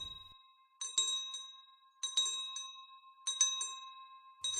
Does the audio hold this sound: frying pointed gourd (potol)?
no